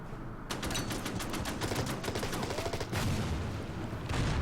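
Rapid automatic firing in Order of Battle as a 45mm anti-tank gun attacks a foxhole: a dense, steady stream of loud shots with a brief pause near the end, then the fire resumes.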